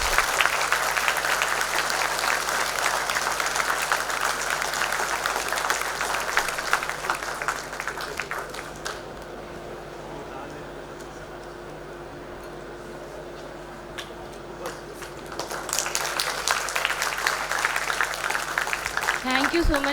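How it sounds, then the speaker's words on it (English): Applause at a medical white coat ceremony at JNMC, Aligarh Muslim University: a long round of clapping from an audience that fades out midway, then swells again toward the end. "Please give a round of applause."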